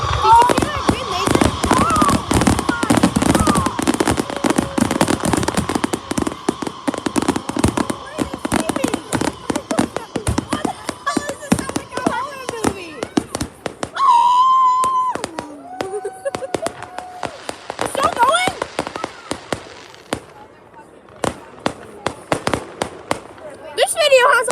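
A fireworks show crackles and bangs in rapid bursts, dense at first and thinning out later, with loud close pops and whistling shells while people talk nearby.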